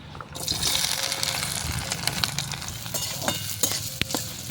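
Vegetables, with a few peanuts, frying in hot sunflower oil, a steady close sizzle with scattered crackles and light stirring clicks, no talking.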